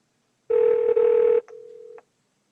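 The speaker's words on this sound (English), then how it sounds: "Calling Phil Bach. Home." A phone call placed by Google Assistant: a loud steady electronic tone sounds for about a second with a brief break, then drops to a quieter continuous tone that stops abruptly.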